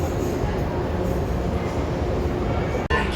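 A metro train at a station gives a loud, steady rumble with a broad roar, and a brief dip comes near the end as the train runs on.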